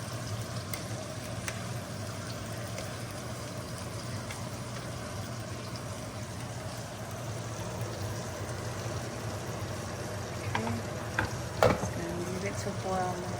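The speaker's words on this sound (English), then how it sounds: "Chicken is boiling away." A pot of chicken simmers in broth for Vietnamese noodle soup, giving a steady bubbling and sizzling hiss that runs throughout. The sound stays quiet and close, with a few clinks and scrapes near the end.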